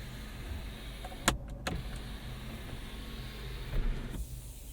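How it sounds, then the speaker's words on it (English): The sunroof motor of a 2022 Mazda CX-30 whirs faintly inside the cabin under a steady low hum, with a couple of sharp clicks from the switch and the roof seating near the middle and end. "You got your sunroof. You can close that."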